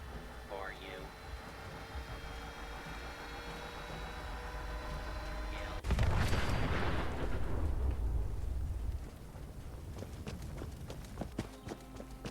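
A hostile robot blows itself up in the video game Fallout 76: a sudden loud blast midway through, then a rumbling roar that slowly fades into scattered clattering debris over a steady background hum.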